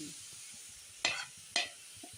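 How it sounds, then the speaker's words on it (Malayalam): Grated coconut sautéed with chillies and turmeric in a pan, two brief scraping stirs over a faint steady sizzle, close and quiet. "നന്നായി വഴറ്റി കൊടുക്കാം കേട്ടോ"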